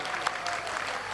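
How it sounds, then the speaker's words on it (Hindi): An audience at a stage gathering of saints, journalists and devotees claps steadily, a fairly faint, continuous patter of applause heard from a distance. "जोरदार ताली बजा करके"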